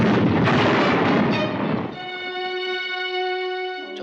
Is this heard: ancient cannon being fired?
yes